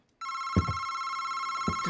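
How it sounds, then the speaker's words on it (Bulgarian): A telephone rings at four in the morning in a horror video game. It is a loud, steady electronic trill that starts suddenly after a moment of silence, with low thuds underneath. "Защо трябва телефона да звъни в 4 сутринта?"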